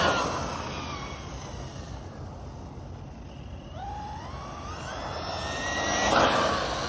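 A Laegendary Thunder RC truck runs hard on a 3S battery, its electric motor whining up in pitch over a wash of broadband outdoor noise that swells toward the end.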